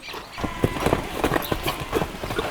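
Hooves of a Chilean criollo horse clip-clop in an irregular, close series of sharp knocks over a faint background, with no talk.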